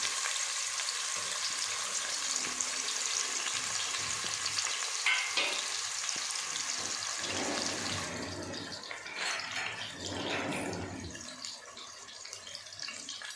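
Tempering seeds and chopped onions crackle and sizzle steadily in hot oil, a loud continuous frying hiss that shifts in texture partway through as more ingredients hit the pan.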